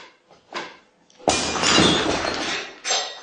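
Glass shattering in a room, a sudden loud crash with scattered breaking fragments that rings on for over a second, preceded by faint thuds and followed by a brief clink.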